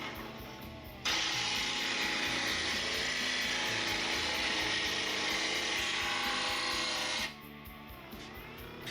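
A grinder sharpens a lawn mower blade in one long, loud, steady grinding pass of about six seconds, with a harsh, bright metallic whine. Quieter motor hum comes before and after it.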